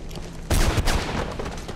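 Gunfire in the Mirror's Edge video game erupts suddenly after a quieter stretch, a loud close burst of rapid shots with crackling impacts that keeps going as sustained fire.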